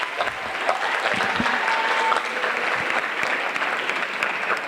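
A school crowd fills the room with sustained, dense applause at the John F Kennedy High School spring sports awards, loud and steady from start to finish with no pauses.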